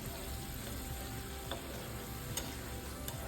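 Pabda fish curry sizzling in a pan as a little water is added, a soft continuous frying hiss with a few faint clicks from stirring.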